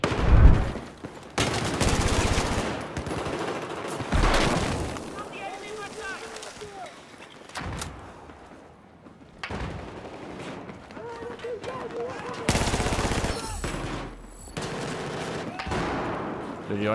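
Automatic gunfire from a weapon in a Battlefield 4 hardcore match on the Operation Locker map, loud sustained bursts broken by short pauses. Someone talks between and over the shooting.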